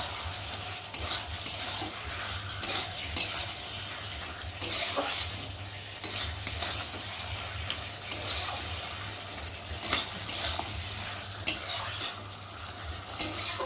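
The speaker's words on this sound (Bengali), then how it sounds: "চিনি দিয়ে একটু ঘেটে দিলাম" Vegetable curry of mixed vegetables and milk, with sugar just added, stirred in a pan over a gas flame: steady scraping and stirring over a soft, continuous sizzle, with occasional clinks of spoon against pan, close and unaccompanied by talk.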